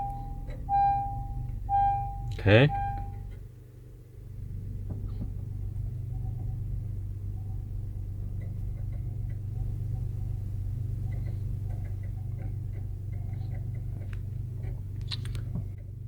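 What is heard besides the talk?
2018 Honda Pilot engine starting with push start and idling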